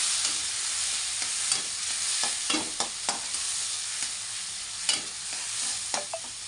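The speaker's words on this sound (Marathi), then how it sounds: "तर आपण यात टाकूया हे टमाटो. एक टमाटर घेतलं मी मोठं. तर आपण याला मिक्स करूया." Chopped tomato stirred in a hot frying pan, a steady sizzle broken by several scraping stir strokes of a spoon against the pan, close and fairly quiet with no talking.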